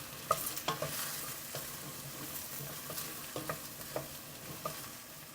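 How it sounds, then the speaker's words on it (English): Chopped vegetables sweat in a soup pot with a quiet, steady sizzle, broken by several sharp clinks and scrapes of a spoon stirring against the pot. "I'm going to add the veggies, and we'll sweat these a little bit"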